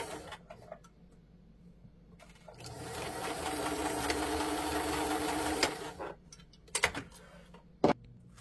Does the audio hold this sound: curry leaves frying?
no